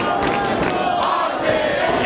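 A Long Island wrestling crowd that came out in a blizzard roars and cheers in a steady, loud wall of voices with no break.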